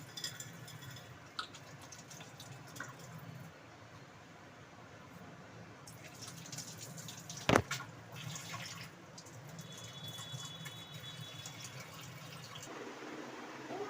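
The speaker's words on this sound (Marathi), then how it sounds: "चेहरा आता पाण्याने क्लीन करायचा आहे" Water splashes and trickles continuously, as if hands scoop it and rinse a face, with one sharp clack midway.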